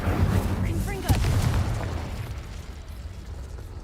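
A Confringo blast spell explodes in Hogwarts Legacy, a loud burst with a sharp pop over a low rumble that fades away. A voice speaks over the start of it.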